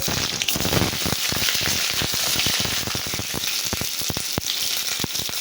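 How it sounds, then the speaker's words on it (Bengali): Pieces of pointed gourd sizzle in hot oil in a kadai, giving a dense, steady crackle and spatter that stays loud throughout, with no voices. "তেলটা গরম হয়ে গেছে এবার আমি পটলগুলো ভেজে নেব"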